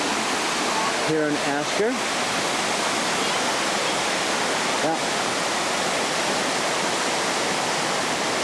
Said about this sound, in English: This is a waterfall flowing into the town lake